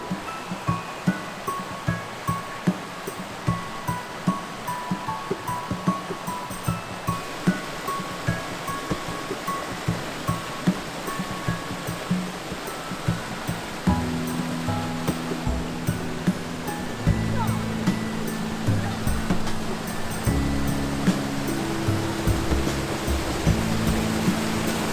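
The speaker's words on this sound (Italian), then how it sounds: "Ci sono un sacco di cascate, vedete qui." Waterfalls along a shaded hiking trail in Val Vertova, Bergamo, make a steady rushing roar, broken by soft rhythmic knocks. Sustained tones join midway, and no one speaks.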